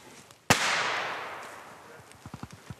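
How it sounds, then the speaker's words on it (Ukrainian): A firecracker bursts with a sharp, loud bang beside an obstacle-course line where a fire burns under a rope, then decays into a long hiss, followed by a few short thuds. "а вздовж усієї лінії регулярно гуркочуть петарди"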